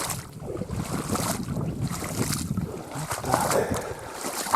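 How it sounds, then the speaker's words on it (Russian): A boat motor drones steadily as the boat travels up the Lymva River, with rushing wind and water noise, loud and close; someone speaks briefly under it. "Лодка по реке Лымва поднимается."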